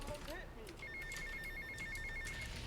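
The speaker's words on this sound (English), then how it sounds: "We're gonna take a phone call." A phone in a video game rings with a steady electronic trill repeating in quick pulses for about two seconds, moderately loud among other game sounds and a short whistling tone at the start.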